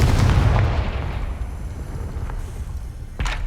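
Confringo fire spell in Hogwarts Legacy, a loud booming blast with a heavy low rumble that decays over a few seconds, followed by a sharp second burst near the end.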